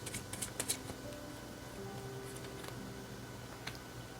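Tarot cards being shuffled, a brief cluster of quick soft riffling flicks at the start, then quieter sliding and an occasional light tap against a low background hum.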